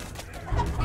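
A short, close burst of chicken clucking in Totally Accurate Battle Simulator, layered over a busy low rumble of battle sounds.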